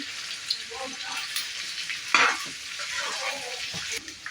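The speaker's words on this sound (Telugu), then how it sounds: "ఇలా ఆయిల్లోనే కొద్దిగా బాగా ఫ్రై చేసుకుందాము ఇలా వేసుకొని అంత ఒకసారి బాగా మిక్స్ చేసుకున్నామంటే పచ్చివాసన పోతుంది" Ginger paste frying in oil for mutton curry, a soft steady sizzle with spoon stirring and scraping, including one louder scrape partway through, all close up with no voices.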